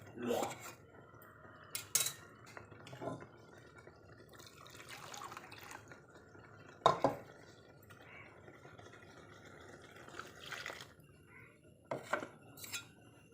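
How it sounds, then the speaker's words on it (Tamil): Water splashes and pours in a kitchen as a mixer jar is rinsed with lentil water and poured into a sambar pot, with clinks of the jar and utensils and a few sharp knocks, fairly quiet and close. "பருப்பு தண்ணி ஊற்றி மிக்ஸி ஜார் கழுகுறேன் நான்"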